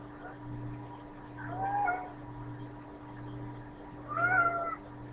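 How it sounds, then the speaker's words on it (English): A whining cat meows nearby in three separate drawn-out calls, the last the loudest, over a steady low electrical hum with no talk. "Sorry. Cat whining."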